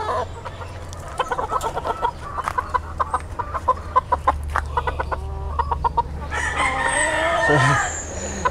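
Chickens cluck in quick, repeated bursts, then a rooster crows loudly near the end, with a steady low hum underneath.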